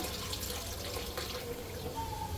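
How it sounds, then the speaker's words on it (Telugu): Poha (flattened rice) being washed in water, a steady wash of running, splashing liquid close by with no talking. "పోహా వాష్ చేస్తుంది మా అమ్మ"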